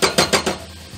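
A spoon clinks against a bowl in four quick, close taps while spices are stirred into a spinach mixture for a spinach soufflé.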